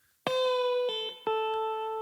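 Electric guitar plays a second short gospel lick shaped around an A barre chord, with three plucked note attacks that ring and slide between pitches, clear and close, alone without speech.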